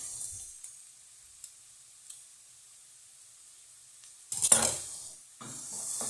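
Sun-dried tomatoes, peppers and eggplant sauté in a pan with a soft, steady sizzle, then a louder burst of stirring and scraping near the end.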